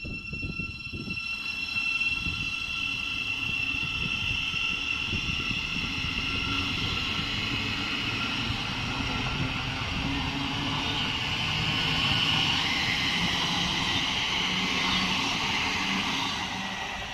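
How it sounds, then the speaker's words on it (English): Trains pulling into Elstree & Borehamwood station on the Midland Main Line, a sustained loud rumble of wheels and motors with high whining tones rising and holding, continuous and fairly close. "We have two trains coming in"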